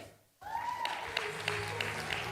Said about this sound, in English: can we have a warm round of applause for Mr. Wesley Kuria?